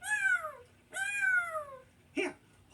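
A cat in a video game gives two long, clear meows, one after another, followed by a shorter chirpy call at the end.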